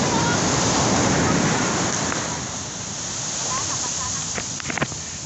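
Strong ocean waves surge and crash continuously at Long Beach in Tignoan, Real, Quezon, a loud, steady roar of surf filling the scene, with a few sharp splashes near the end.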